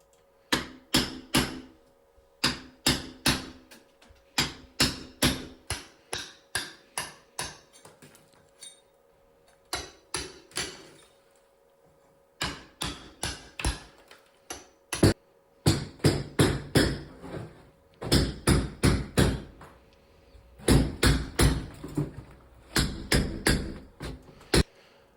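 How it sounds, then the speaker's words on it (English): Hammer striking a chisel during home renovation, chipping away material in repeated bursts of sharp metallic taps with short pauses between runs, close and loud with no talk. "if he's just done that with hammer and chisel"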